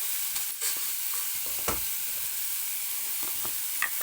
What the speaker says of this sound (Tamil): இப்போ தக்காளி சேர்த்து நல்லா வதக்கணும்.